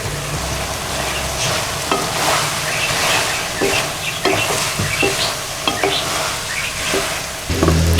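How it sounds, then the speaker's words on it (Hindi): Boiled peas stirred into a pan of frying yakhni pulao with mixed vegetables and rice, giving a steady close sizzle with scraping stir strokes and occasional soft clinks throughout, no voices. "ये अब मैं इसमें मटर डाल देता हूँ।"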